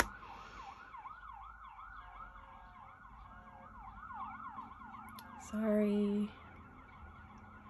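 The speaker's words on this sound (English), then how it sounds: "I'm sorry about the sirens, guys." Ambulance sirens wail outside in a steady rising and falling sweep, muffled and fairly faint, passing near a hospital and fire station while a person briefly apologizes indoors.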